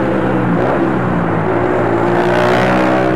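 Motorcycles passing on a busy road, a loud, close, continuous engine roar with overlapping revving and whirring as the bikes go by, no voices over it.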